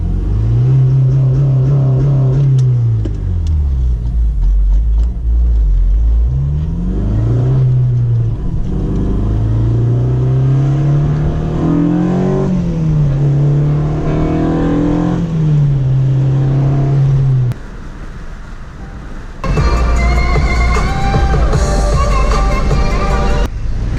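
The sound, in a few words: car engine revving at a car wash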